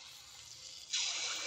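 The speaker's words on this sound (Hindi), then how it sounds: "मु एथरा टिके पानी दउची" Water is poured into banana malpua batter in a home kitchen: a faint, quiet stretch gives way to a sudden brighter trickle and splash that continues steadily.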